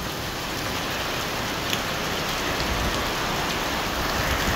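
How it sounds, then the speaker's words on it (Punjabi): A sudden, steady downpour falls on a street in Dadyal, Azad Kashmir, with water collecting on the road; a dense, even hiss of rain continues throughout, close and fairly loud, with no talking. "ਇਸ ਟਾਈਮ ਅਚਾਨਕ ਜਿਹਾ ਬਾਰਿਸ਼ ਸ਼ੁਰੂ ਹੋਈ"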